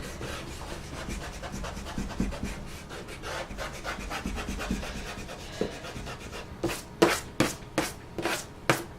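A pencil eraser rubs across drawing paper in quick, close back-and-forth scrubbing strokes, a soft dry rasp that turns into sharper, distinct swipes near the end, with no talking.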